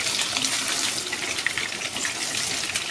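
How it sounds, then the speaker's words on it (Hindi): Paneer frying in very hot oil over a high flame gives a steady, close, loud sizzle and crackle with continuous hiss and no talking. "पनीर को तेज आंच पे ही फ्राई करेंगे और एकदम तेल गरम करके ही डालना है"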